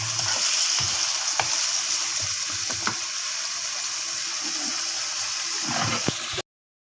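Potatoes and radish pods fry steadily in a pan over a medium-low flame, giving a continuous close sizzle with occasional soft scraping stir clicks and no voices.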